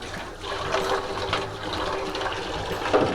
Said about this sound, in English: Remember, on your interactive feeders, make sure you get them rinsed on the inside.